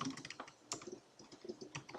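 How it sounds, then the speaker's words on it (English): Fingers type on a computer keyboard in quick irregular runs of light clicks with short pauses, close and soft, with no talking. "you can keep on typing in there"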